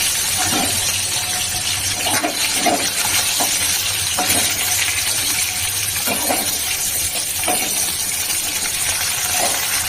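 Magur catfish frying in a pan gives a loud, continuous close-up hiss of hot oil with scattered small pops and crackles throughout, and no speech.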